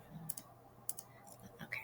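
Soft, scattered keyboard typing clicks in short irregular bursts, faint and close in a quiet room.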